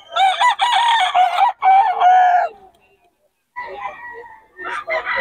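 A Boston and Gilmore gamefowl cross rooster crows loudly and close, two long strained calls followed by shorter clucking bursts after a brief pause.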